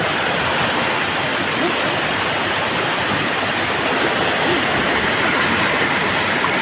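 A loud, constant roar of rushing water from a powerful river current beneath a bridge, dense and unbroken throughout.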